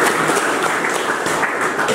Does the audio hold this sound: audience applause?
yes